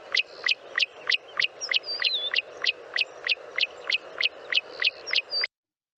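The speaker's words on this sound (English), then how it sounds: "the croaking cisticola, which is a almost frog-like chirp" A croaking cisticola in South African grassland repeats a short, rasping, almost frog-like chirp about every third of a second in a steady series, close and clear.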